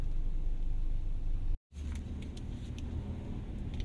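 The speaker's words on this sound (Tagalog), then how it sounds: "Oh wow, traffic." Steady road traffic with cars rolling past, a continuous low rumble that cuts out for a split second and then resumes at the same level.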